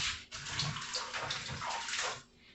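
Tap water running steadily into a kitchen sink while a pan is rinsed during pound cake baking, a soft even splashing rush that fades out at the end.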